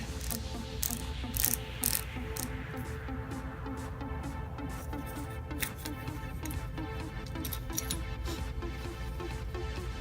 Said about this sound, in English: the rotary designed hop-up that comes in pretty much all of Crytek's guns. Has a pretty distinct click.